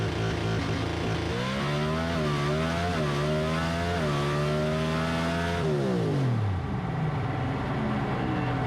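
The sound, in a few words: drag racing car accelerating through gears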